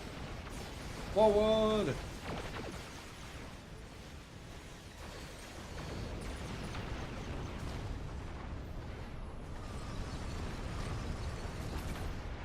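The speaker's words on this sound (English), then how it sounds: "I love those torpedoes." Torpedoes explode in the space game Star Trek Online, a sharp burst followed by a rumbling roll of blasts and a low, sustained booming, while a voice calls out a short command over the din.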